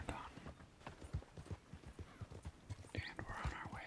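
Horse hooves clip-clop steadily in Red Dead Redemption 2, a rhythmic run of close, thudding game hoofbeats with an occasional whinny, under a soft whispered voice.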